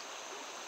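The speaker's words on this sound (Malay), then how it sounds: "kita berada di sungai lagi sahabat" River water streaming outdoors, a continuous broadband rushing and gurgling flow, close and steady throughout.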